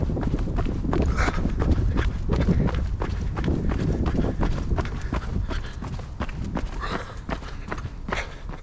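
A person runs outdoors wearing an action camera, and their footsteps land in a quick, even rhythm of thuds close to the microphone. A light wind rush sits underneath, and the footfalls grow slightly fainter toward the end.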